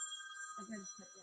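A phone rings with steady electronic tones while a person talks over it at close range.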